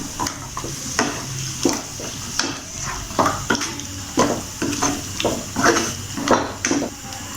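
Washed chicken pieces are stirred in a frying pan for pepper chicken, with rhythmic scraping and clanking of a utensil against the pan roughly every half second over a soft sizzle.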